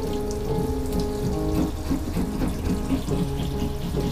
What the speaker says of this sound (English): Keep them under that running water.